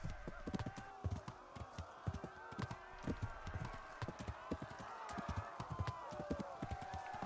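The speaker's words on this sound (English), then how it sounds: "Gallop is faster, but also drains the horse's stamina faster." Rapid hoofbeats of a horse galloping in Kingdom Come: Deliverance, steady and close, with saddle and gear noise.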